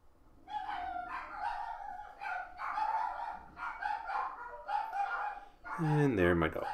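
Dogs bark repeatedly in the distance, a fairly faint, steady run of barks ending in a louder, closer burst, with someone speaking nearby.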